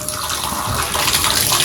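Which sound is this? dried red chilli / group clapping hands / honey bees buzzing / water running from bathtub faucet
water running from bathtub faucet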